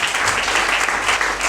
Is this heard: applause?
yes